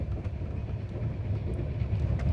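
A moving train heard from inside a passenger compartment, a steady low rumble with faint rattles and clacks throughout, no voices.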